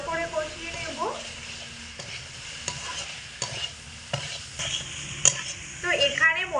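Boiled potatoes tossed with spices in a pan for a potato curry, with repeated spatula scrapes and knocks against the pan over a low sizzle, close and moderately loud.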